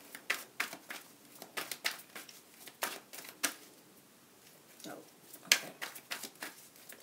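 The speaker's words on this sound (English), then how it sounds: "they want me to keep shuffling" Tarot cards being shuffled by hand in repeated quick riffling bursts of papery snaps and flutters, close and fairly crisp, broken by short pauses, with no voices heard.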